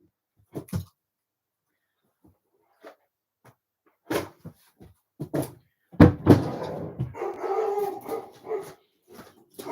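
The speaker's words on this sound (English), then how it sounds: "I don't know if you can hear him barking away" A dog barks in short, scattered bursts at a moderate distance, with some clattering and rustling in a sewing room around it.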